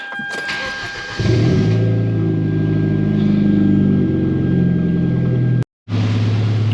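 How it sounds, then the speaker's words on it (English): A car engine runs inside a garage: after about a second of quiet room tone it roars to life and settles into a loud, close, steady idle with a throbbing low hum, briefly cut off near the end before resuming. "I'm kind of standing away from the car because it's running right now and it's loud"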